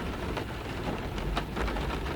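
Steady heavy rain falling during a thunderstorm, a dense continuous hiss of drops on surfaces with a few slightly louder spatters, loud and close throughout, no voices.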